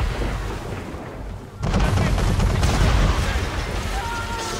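Heavy cannon fire bursts from an attacking balloon during an Assassin's Creed III naval battle, a sudden loud boom followed by sustained rumbling barrage and crackle, with game voices briefly heard before it.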